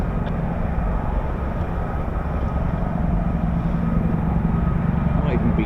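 Apache helicopter flying nearby at an air base, a continuous low rumbling drone that stays steady throughout with people talking over it.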